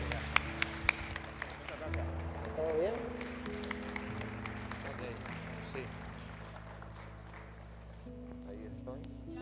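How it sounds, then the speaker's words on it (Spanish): A church conference audience applauds a pastor, a broad, sustained patter of clapping that slowly fades, mixed with low musical tones and a short exchange of voices. "Fuerte ese aplauso, por favor."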